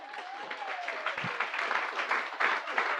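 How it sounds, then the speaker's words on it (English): Audience at a live podcast taping for the Canadian Club Toronto clapping their hands in a hall, a steady wash of applause lasting about three seconds with a faint tone and a brief thump beneath it. "If you're excited to be here, clap your hands."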